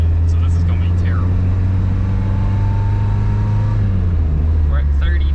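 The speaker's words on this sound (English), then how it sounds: "Wide open throttle. Still wide open throttle. It's cold, so this is going to be terrible." A cold 1981 VW Dasher diesel engine held at wide open throttle, giving a loud, steady low drone with a coarse rumble throughout, while someone talks briefly over it.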